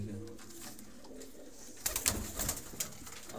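Soft cooing and low bird sounds from teddy breeder pigeons nearby, with a few fluttering rustles toward the end.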